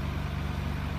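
A red 1990 Nissan Skyline R32 GT-R idling with its twin-cam RB26 engine. The low rumble is even and steady, alone and close.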